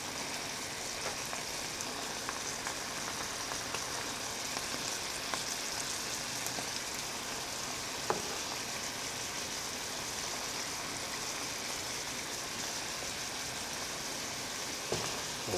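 Food sizzling and frying in a pan, a steady broadband crackle that holds evenly throughout with a few sharper pops, close and moderately loud, with no talking.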